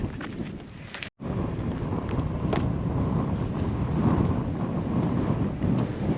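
Strong gusty wind buffets the microphone at an exposed hilltop campsite, a continuous loud rumbling roar with one brief dropout near the start.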